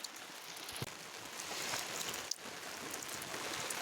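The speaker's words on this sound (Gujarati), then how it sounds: "ખબર નહીં વરસાદ શું લેવા આવ્યો હે એ નહીં ખબર મને." Steady light rain falls outdoors on a farm, a soft even hiss of drops on surfaces with a couple of faint knocks, no voices.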